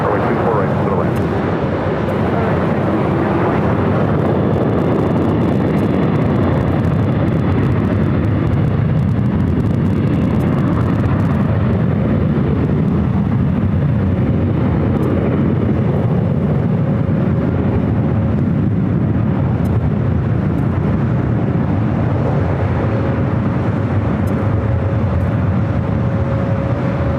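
A jet airliner takes off from a runway at Los Angeles International Airport with a loud, sustained, rumbling engine roar that holds steady throughout. A radio voice is faintly heard under the noise.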